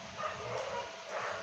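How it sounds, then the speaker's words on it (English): Dogs bark somewhat distantly behind a gate in an outdoor setting, a muffled, steady run of yaps blending into background noise for about a second and a half. "Oh, the dogs barking, yeah."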